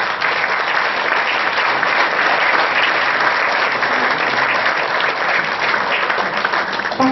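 An audience at a Paris lecture-debate applauds the website's webmaster with a dense, loud, continuous wash of clapping that holds steady throughout.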